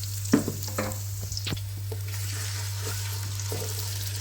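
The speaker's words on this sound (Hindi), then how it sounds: "अब थोड़ा सा ऑयल लूँगी और इसमें हल्का सा गोल्डन करूँगी प्याज को" Chopped onion sizzling in a little oil inside a pressure cooker as it turns golden, a continuous close frying hiss with occasional stirring clinks and scrapes and a steady low hum beneath, no talking.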